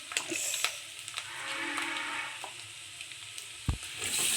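Turmeric and masala spice mix frying in a hot pan for fried rice, a steady close sizzle with a few scraping stir clicks and a brief clatter near the end.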